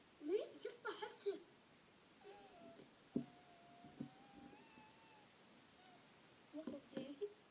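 A cat lets out a long, drawn-out meow that rises and falls, heard faintly and quietly between bursts of soft speech.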